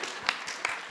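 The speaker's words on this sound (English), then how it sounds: "two rounds of applause for Lexi." Audience at an animation festival panel giving a round of applause: faint, scattered claps in a short burst, heard from a distance.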